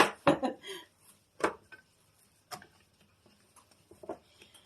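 A metal pizza pan brought over and set down on a counter while making homemade pizza, a few sharp close clanks and taps, then quieter scattered ticks.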